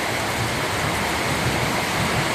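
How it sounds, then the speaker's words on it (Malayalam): Heavy rain pours down steadily in a thunderstorm, a dense, loud, unbroken hiss of falling water that fills the whole stretch with no voices over it. "അടിപൊളി മഴയാണ് കേട്ടോ"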